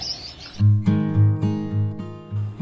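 Small caged pet birds, including a lutino, chirp in quick, bright bursts close by, a rapid run of repeated tweets with short pauses between them.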